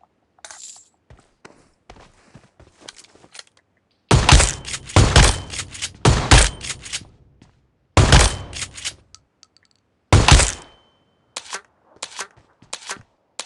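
Loud bursts of video game gunfire in several volleys, with rapid cracking shots separated by quieter stretches of scattered clicks and steps.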